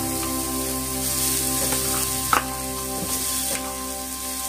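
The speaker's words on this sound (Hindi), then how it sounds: "हम उनका जो पेस्ट है वो हम यहाँ पे पैन में डाल देंगे" Ground amla paste sizzles steadily as it goes into a hot pan, a close, continuous bright crackle and hiss with a few soft scrapes.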